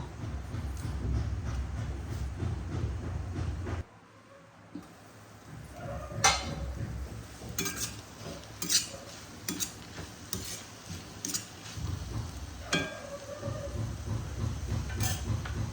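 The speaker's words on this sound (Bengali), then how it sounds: "আমি বারে বারে নেড়ে নেড়ে তৈরি করে নেব।" A spoon stirs banana blossom curry (mochar ghonto) in a pan, giving repeated scraping and clinking taps at an uneven rhythm over a low background rumble, with a brief quiet pause partway through.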